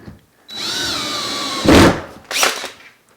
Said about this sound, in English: Secure this with our 1-inch screws.